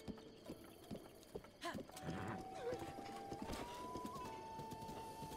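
Horse hooves clip-clopping in the video game The Legend of Zelda: Breath of the Wild, a quick steady trot with faint game music and tones underneath.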